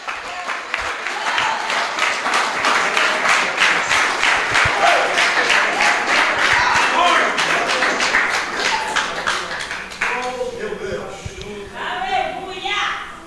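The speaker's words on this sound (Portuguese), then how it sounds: "Quem entendeu esta palavra, aplauda Jesus Cristo, povo." A church congregation applauds after a preacher's sermon, sustained loud clapping from many hands that swells, holds, then thins toward the end, with a voice speaking over it.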